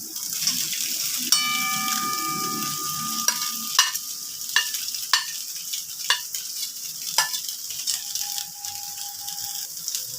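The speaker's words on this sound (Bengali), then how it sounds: "এবারে দিয়ে দিচ্ছি আগে থেকে ভেজে রাখা আলুগুলো।" Pre-fried potatoes and long beans fry in a pan with a constant sizzle. A spoon knocks against the metal again and again in sharp, ringing taps, and a brief tonal ring sounds partway through.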